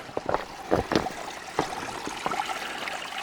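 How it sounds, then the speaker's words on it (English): A stream of running water beside a hiking trail on the Pacific Crest Trail between Trout Lake and Cascade Locks gurgles and splashes steadily nearby, with irregular trickling bursts. "Oh my God, I hear water."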